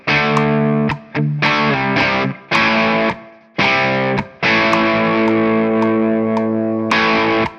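Distorted electric guitar run through a Tonex amp model based on the Soldano SLO-30, playing loud sustained chords and short stabs in a choppy rhythm with brief gaps.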